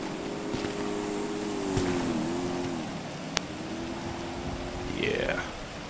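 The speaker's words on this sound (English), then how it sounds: "whenever they drive by, I'll just be a little quiet so you can hear these cars" Racing cars in an Xbox racing game drive by with a droning engine whine that bends in pitch. One car sweeps past near the end with a rising, doppler-like rush over a steady background.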